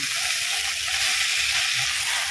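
Vegetables and chillies fry in a pan with a steady, bright, continuous sizzle, loud and close, with faint stirring bumps underneath and no talking.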